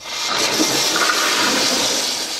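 A prison toilet flushes with a loud, forceful rushing roar of water that fills the whole short moment on its own, with no voices.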